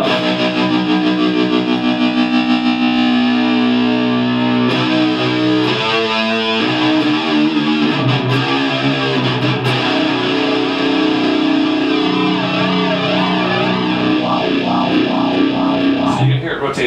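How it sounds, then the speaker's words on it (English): Distorted electric guitar through a Blackstar amp with a tap-tempo pulsing tremolo, the volume wavering rhythmically over sustained chords, loud and close with no talking. "I can tap tempo the tremolo to be at the right BPM"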